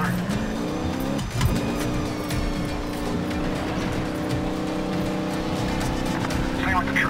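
Car chase in the video game Medal of Honor Warfighter, a loud, sustained engine drone with shifting pitch and tire noise, close and continuous, with voices talking over the driving.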